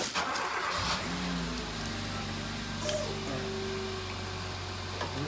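A truck's engine starts up nearby and then idles with a steady low drone under a quiet garage background, with a brief rev partway through.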